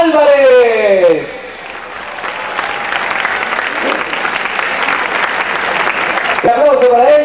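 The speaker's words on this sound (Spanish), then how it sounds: "le invitamos a que pase al frente y a darle un aplauso" Applause for a finalist at a 1998 beauty pageant in Piura, a broad crowd clapping that swells and holds between stretches of an announcer talking over a loudspeaker at the start and end.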